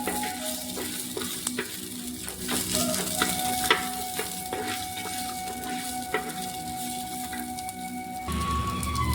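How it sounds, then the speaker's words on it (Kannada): Sliced onion sizzling in a hot pan, a continuous close frying crackle broken by stirring clinks and scrapes, with no talking. "ಆನಿಯನ್ ನೀಟಾಗಿ ಫ್ರೈ ಆಗಬೇಕು"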